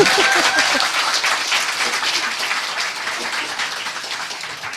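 A studio audience bursts into lively applause, loud at the start and easing off slightly, with brief voices at the opening.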